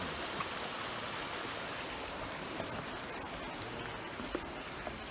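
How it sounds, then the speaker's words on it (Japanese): A small stream at a campground cascades like a little waterfall, giving a steady, soft, even rush of flowing water with no voices. "滝みたいになってるね。"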